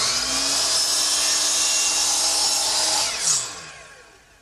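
A power saw on a miter box set at 45 degrees cuts a chamfer along a wooden workbench edge, a loud, steady high whine that dips briefly and then spins down as the blade slows.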